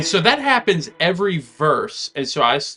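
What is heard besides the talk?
No everyday noise stands out behind the speech.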